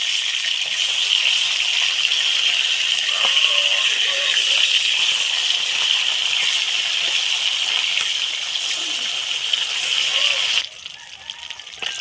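Koi fish frying in hot oil in a kadai give off a steady, loud sizzle that holds for about ten seconds, then drops off sharply when a fish is flipped, leaving a quieter crackle.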